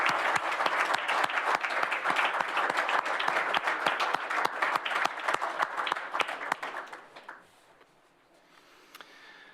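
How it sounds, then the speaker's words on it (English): Audience applauding parents at a military child recognition ceremony, a dense steady clatter of many hands with a few sharper claps, fading out after about seven seconds to near quiet. "I'd like a round of applause for the parents who supported these children."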